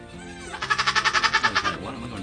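A newborn bay goat kid lets out one close, loud, quavering bleat with a rapid pulsing tremble, preceded by a softer brief call.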